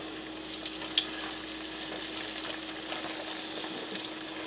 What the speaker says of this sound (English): drop it in and see how it's starting to sizzle